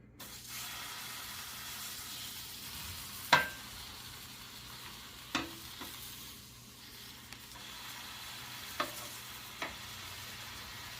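Bacon from Sam's Club frying on a 17-inch Blackstone E-series electric griddle, a steady close sizzle with a few sharp pops and scraping clicks, no voices.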